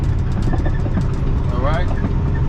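Truck engine with a 10-speed manual transmission revving as the driver matches speed to grab seventh gear, a loud steady low rumble that swells briefly, with someone talking over it.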